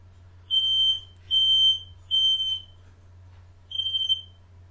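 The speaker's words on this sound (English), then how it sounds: "Smoke alarm's going off." Smoke alarm going off in a house, sounding four loud, piercing high-pitched beeps in an uneven rhythm over a steady low hum.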